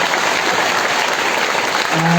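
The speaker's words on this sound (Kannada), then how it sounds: "ಎಲ್ಲಾ ಕಾರ್ಯಕರ್ತರಿಗೆ ಒಂದ್ಸರಿ ಜೋರಾಗಿ ಚಪ್ಪಾಳೆ ತಟ್ಟಿ ಅವರನ್ನು ನಾವು ಅಭಿನಂದಿಸಬೇಕು." A large crowd at a festival gathering claps loudly to honour the volunteers, a dense, steady wash of applause that fills the whole stretch.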